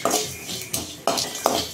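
Whole spices, including fennel seeds, cinnamon bark, star anise and marathi moggu, are dry roasted in a pan over a medium flame, giving soft rattling and scraping with a few sharp metallic clinks from stirring, close and alone.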